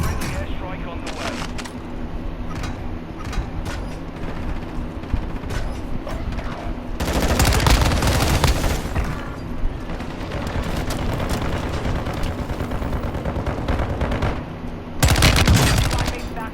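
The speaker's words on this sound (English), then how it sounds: "Airstrike on the way." Airstrike explosions and rattling gunfire in an Ashika Island video game match, with heavy rumbling blasts swelling loudly twice over sustained dense firing and faint voices mixed in.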